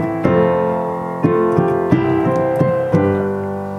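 Piano plays a chord progression with a melody on top, each chord struck firmly at roughly one-second intervals and left ringing, clear and close with no voice.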